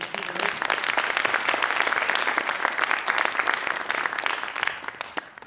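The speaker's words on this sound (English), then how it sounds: "Please, a round of applause for Linda." Sustained audience applause at an evening literary festival ceremony, a full room of dense clapping at moderate distance that holds steady, then tapers near the end.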